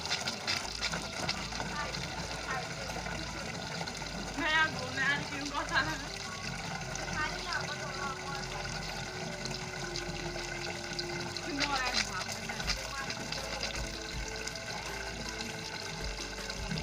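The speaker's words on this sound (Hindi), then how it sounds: "तो अभी मैं जा रहा हूँ धारे की तरफ इस पानी के डब्बे को भरने के लिए।" Water gushing and trickling as a container is filled at a mountain spring in a hill village, a steady close splashing flow that runs through the whole stretch with a few brighter spurts.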